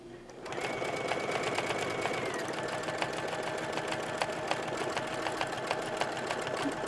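A sewing machine stitching a free-motion quilting line, starting up and then running in a steady fast mechanical whir with regular needle clicks, close and alone with no talk.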